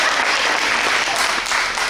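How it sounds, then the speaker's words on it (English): An audience at a talk on Black women's creative expression claps steadily after a question-and-answer prompt, a fairly loud, continuous patter of hands. "Give her a round of applause for being over."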